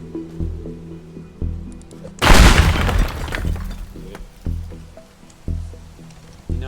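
Explosives demolish a building in the Teardown video game: a sudden heavy boom bursts into a long crashing rumble of shattering, breaking debris, surrounded by quieter thuds and clunks.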